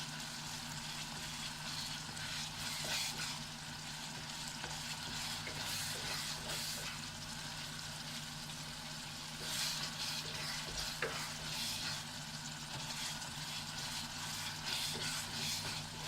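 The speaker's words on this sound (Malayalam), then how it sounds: "ഇനി ഇത് നല്ലപോലെ ഉടച്ചു കൊടുക്കാം. തക്കാളി നല്ലപോലെ ഉടയണം." Cooked tomatoes are mashed and stirred in a pan while making a prawn curry: steady soft scraping and squelching over a low frying sizzle, with occasional sharper spoon knocks, close and continuous.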